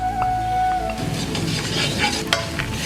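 Coriander powder being stirred in a hot pan for sambar, a steady sizzle with scraping stirs running throughout, close and moderately loud, no voices.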